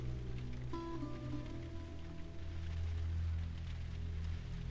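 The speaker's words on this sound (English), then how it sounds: "So moody with the rain." Steady rain falls in a video game scene, a constant soft hiss with a low rumble and faint tonal music underneath.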